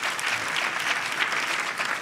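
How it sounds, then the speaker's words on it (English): Audience applause fills the space: steady, dense clapping from a crowd, loud and continuous for about two seconds with no voices over it. "give Mitch a round of applause and the same round of applause for Johannes,"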